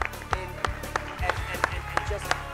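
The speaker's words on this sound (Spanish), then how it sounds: "Un aplauso." Audience applause on a singing competition show, sharp claps in an uneven rhythm over steady background tones and a low hum of voices.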